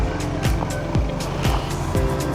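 A manual motorcycle rides along a road, its engine droning steadily up close, with wind buffeting and a series of regular thumps at roughly half-second intervals.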